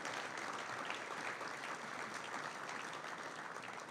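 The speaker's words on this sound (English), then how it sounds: "Please give our sponsors a big round of applause for their support." Audience applause for sponsors at a chamber of commerce event, a steady crowd-wide clapping wash that stays even and fairly loud for the whole stretch, with no voices over it.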